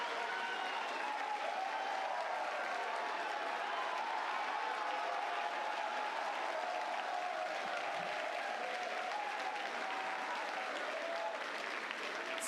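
A crowd at a SpaceX Starlink deployment in Hawthorne and Starbase applauds and cheers in a steady, distant wash of clapping and voices that holds level throughout.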